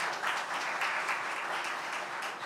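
Applause at a legal policy symposium for the presenter and panel discussants, a steady wash of many hands clapping in a hall, continuous and moderately distant, with no voices over it.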